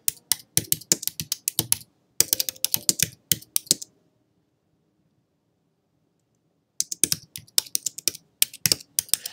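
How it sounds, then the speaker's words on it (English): Rapid clattering keystrokes on a computer keyboard, close and crisp, in two bursts of typing separated by a few seconds of silence. "I'm just going to type that in."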